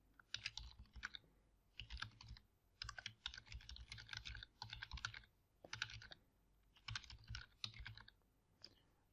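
Close, quiet typing on a computer keyboard during text editing: quick runs of keystrokes in several bursts separated by short pauses, with no talking.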